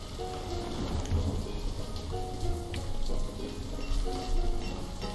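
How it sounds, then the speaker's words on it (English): Steady rain pattering in the village-building game Banished, a dense continuous hiss of drops with faint tonal game sounds beneath, even and unbroken throughout. "Let me turn down the rain effects"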